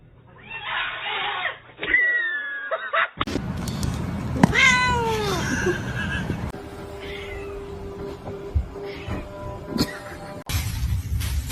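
A kitten meows repeatedly, close and clear, in a series of rising and falling cries separated by short pauses and abrupt cuts, over quiet background noise.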